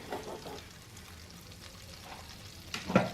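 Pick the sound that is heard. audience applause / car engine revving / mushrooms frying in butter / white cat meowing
mushrooms frying in butter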